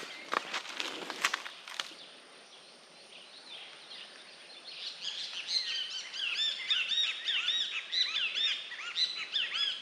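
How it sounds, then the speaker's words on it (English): Birds singing outdoors in Mexico, many overlapping chirps and trills that fill the second half after a few footstep-like knocks at the start, fairly faint and somewhat distant. "I'm gonna stay quiet so that you guys can hear the birds and all that"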